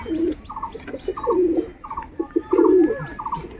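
Repeated soft coos of long Kalshira pigeons in short rhythmic phrases, fairly close, over a low background murmur with occasional faint chirps.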